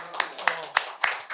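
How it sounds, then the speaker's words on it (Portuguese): Slow, evenly spaced handclaps, five sharp strikes about a third of a second apart, close and fairly loud, closing a Conmebol Libertadores 2023 press conference with coach Tite. "Salve de palmas."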